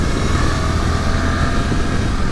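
A 2024 Suzuki V-Strom 800RE motorcycle cruises along a scenic road, its engine and rushing wind forming a loud, constant rumble close to the rider with no talk.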